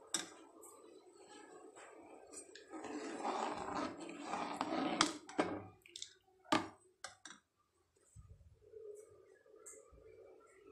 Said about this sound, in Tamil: பாருங்கள், கொதி பிடிக்க ஆரம்பிச்சுது.